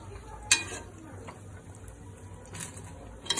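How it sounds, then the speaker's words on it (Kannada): Mint leaves frying in oil in a pot while a mushroom biryani is being made, giving a faint, steady sizzle with a few brief clinks and stirring sounds. "ಪಾತ್ರೆಯಲ್ಲಿ ಆಯಿಲ್ ಹಾಕೊಂಡು ಬರೀ ಪುದೀನ ಮಾತ್ರ ಫ್ರೈ ಮಾಡ್ಕೊಳ್ಳಿ."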